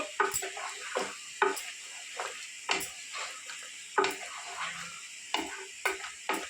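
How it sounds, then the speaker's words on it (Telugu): A spoon stirs masala powder and chilli in a pan for mutton curry, making sharp, regular scraping clicks about once a second over a soft background sizzle; no talking. "మసాలా పొడి కారం వేసేసి కలిపేస్తున్నాను"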